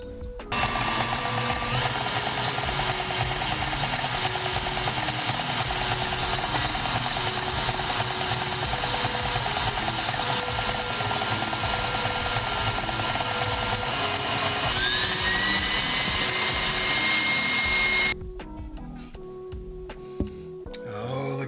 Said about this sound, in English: We're gonna go ahead and turn the mixer back on and slowly start to add our 2/3 cup sugar into the mix